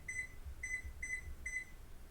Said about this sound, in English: Actually, I want to start a timer